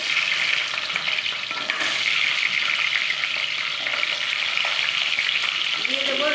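Crab pieces fry in hot oil, giving a loud, continuous, close sizzle with occasional stirring scrapes and no voices.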